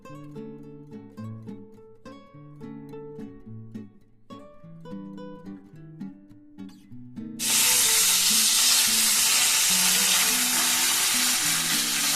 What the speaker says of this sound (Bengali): পনিরগুলো আমার ভাজা হয়ে গেছে দেখুন, এর থেকে আর বেশি ভাজবো না।